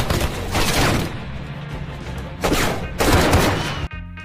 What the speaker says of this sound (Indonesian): terjadilah baku tembak antara Arthur, Steve, dan penjaga Vaughan